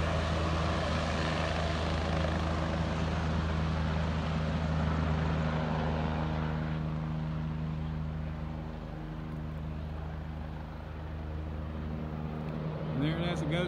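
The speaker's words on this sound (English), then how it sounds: "now you see the Lifesaver helicopter taking off" Lifesaver rescue helicopter lifts off and flies away, a loud steady rotor and engine drone that eases slightly in the second half, with someone talking over it.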